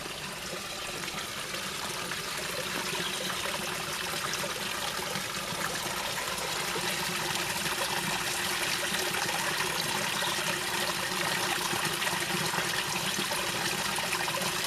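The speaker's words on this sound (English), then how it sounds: "There's two waterfalls there now." Water trickles from a spring well and spills over two small waterfalls in a wood, a steady broadband splashing rush that stays constant and fairly close throughout, with no voices.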